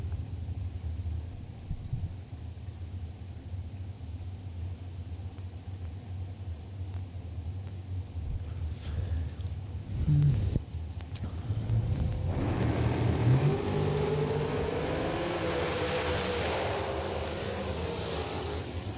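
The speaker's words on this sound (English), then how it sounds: "Freiner, the Ohio racer in the Mr. Gasket lane, one of his two dragsters, competing here." Drag racing dragsters roar off the line and accelerate down the strip, a rumbling engine swelling from a distant low drone into a louder, sustained rising whine.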